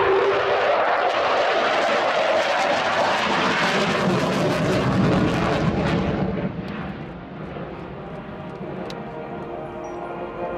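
A Sukhoi Su-27 fighter with Saturn AL-31F turbofans in a flying display at an airshow at RAF Fairford, its loud, broad engine roar sustained, then easing slightly as the jet passes and recedes.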